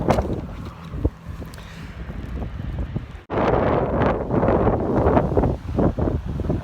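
Gusty wind rushes across a high, lightly snowy viewpoint on the Appalachian Trail above a four-lane road, roaring loudly into the microphone and swelling stronger halfway through.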